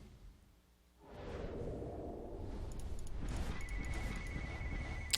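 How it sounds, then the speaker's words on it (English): A household telephone rings in the background, a steady electronic ringing tone under a continuous broad noise bed, faint and distant. "Sorry about the phone there in the background, everybody."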